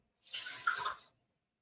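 Water pours steadily from a tap into a pot of rice for about a second, a bright splashing rush that starts and stops abruptly.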